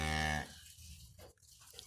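A Hereford cow lets out a single loud, close moo that holds briefly and then cuts off, leaving quiet outdoor background.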